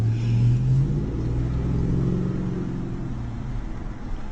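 A Dodge Ram truck with a 5.7-litre engine, modified to run on hydrogen and water, drives with a steady low engine rumble that swells briefly at the start and then settles into a continuous drone.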